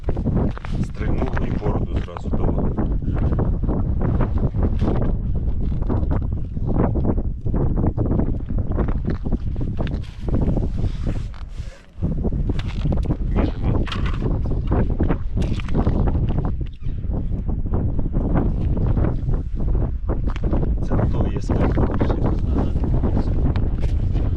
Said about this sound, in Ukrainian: Ну Вітер сильний, може бути таке, що і вітром здуло